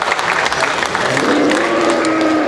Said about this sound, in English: let's give these cows a round of applause